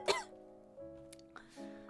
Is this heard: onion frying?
no